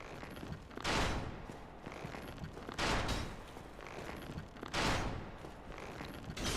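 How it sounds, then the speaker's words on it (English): Arrows from a great bow fired by an archer in Dark Souls Remastered strike in three loud bursts roughly two seconds apart, each a sharp heavy impact over a constant rumbling game background. "it was you who was firing the great bow"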